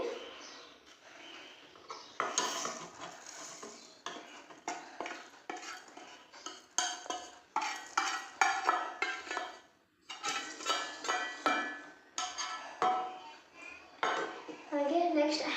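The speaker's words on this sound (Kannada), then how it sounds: "ಈಗ ಎರಡು ಮಿಕ್ಸ್ ಮಾಡಿ ಎರಡು ಜೊತೆಗೆ ಹಾಕೊತಾ ಇದ್ದೀನಿ." Spoon scraping and clinking against a bowl while sugar and coffee powder are mixed together, a steady run of close, busy stirring scratches with brief pauses.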